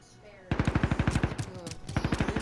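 Rapid automatic gunfire in Call of Duty: Modern Warfare, a loud, steady burst of evenly spaced shots that starts abruptly and runs to the end, with a brief lull partway.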